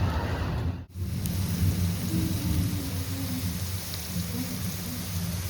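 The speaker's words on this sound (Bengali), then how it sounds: "তো বাইরে বৃষ্টি পড়ছে" Steady rain pours outside with a deep rumble of thunder, a loud continuous wash of falling water that briefly cuts out near the start, then rolls on evenly with low thunder underneath.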